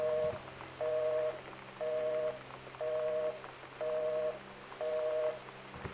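Telephone handset in the game Gone Home giving a disconnected-line tone, six short evenly spaced beeps about a second apart over faint rain-like hiss, heard close with no one speaking.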